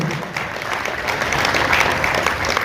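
Sustained, dense clapping from an audience at a charity event for food service and needy patients, continuous and fairly loud with no voice over it.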